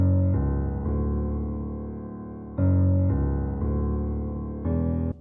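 Low piano bass notes, doubled an octave down at softer velocity, ring out as sustained chords that are struck, decay slowly and then restruck in a slow, even rhythm.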